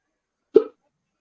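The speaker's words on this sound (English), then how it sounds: "Nice hiccups there" A single short hiccup, close and fairly loud, heard alone against silence.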